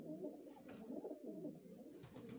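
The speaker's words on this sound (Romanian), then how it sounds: "Facem aici o filmare cu porumbei" Pigeons coo softly and repeatedly, a low throaty burbling that rises and falls over steady outdoor background noise.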